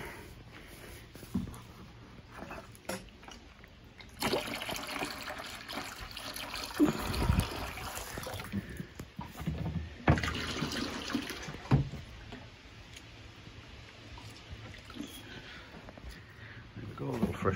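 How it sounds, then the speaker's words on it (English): Water is poured into a water container in a rabbit enclosure in quiet, splashing bursts of filling and trickling, broken by short pauses and small handling noises. "Let's get some water in here."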